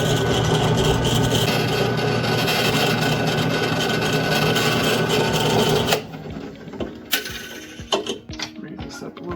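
A drill bores into a mild steel bolt during dredge pump repair work, grinding loud and steady for about six seconds before it stops, leaving scattered clicks and knocks of handling.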